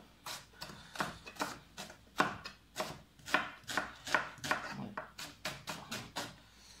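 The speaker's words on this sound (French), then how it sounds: "Oignon, on va couper pareil." A knife chops an onion on a board while a Gaumais pâté is being made: a quick, uneven run of crisp, close chopping strokes, fairly quiet, with no voice.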